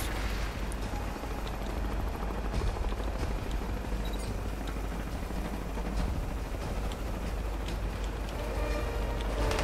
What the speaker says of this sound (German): verdammt, schon wieder ein Helikopter.